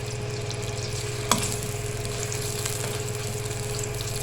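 Onions sautéing in a hot pan for spiced rice give a steady close sizzle and crackle, a continuous frying hiss with one brief sharp tick partway through and no talking.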